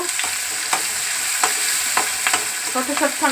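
Onion and green chili are stirred in a hot frying pan, a continuous loud sizzle with intermittent scraping strokes of the spoon, close and without talk.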